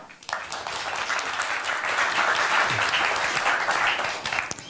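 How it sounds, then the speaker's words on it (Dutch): Audience at a municipal election debate breaks into warm applause, a quick swell of many hands clapping that stays full and lively for a few seconds. "geef er een warm applaus"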